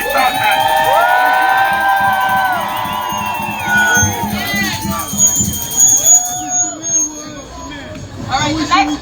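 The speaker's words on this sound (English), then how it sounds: "what we want to do is give a big round of applause for the public advocate Jamani Williams" Protest crowd outside a city hall cheering for a public advocate, loud whoops and shouts from many people at first, giving way to scattered calls and chatter.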